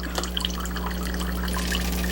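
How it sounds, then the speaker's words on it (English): A thin stream of running water from a tap trickles continuously into a cup during a classroom electrostatics demonstration with a charged balloon, a soft, steady splashing under a low hum, close and moderately quiet. "you can see the water is pulled toward the balloon"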